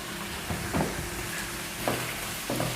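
Tomatoes and onions sauté in a pan for paneer vegetable kofta gravy, a steady soft sizzle broken by a few scraping stirs of a spoon at close range.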